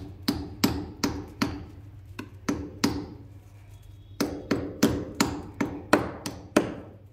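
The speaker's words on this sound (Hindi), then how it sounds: "लगे तो थोड़ा हथौड़ी से उसे दबा देंगे" A small hammer taps coins down, one stacked on another, in a series of sharp, close metallic knocks coming in quick irregular clusters with short pauses between.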